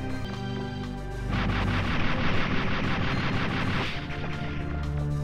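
Seeker missiles firing in the Megaman 64 video game, a dense run of rapid booming blasts and crackling shots over a droning game soundtrack, loud and continuous.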